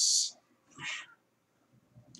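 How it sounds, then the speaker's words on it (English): A domestic cat meows angrily, a loud sharp yowl followed by a second drawn-out complaining meow, then a brief faint chirp near the end, with quiet room noise between calls. "Apparently my cat's mad."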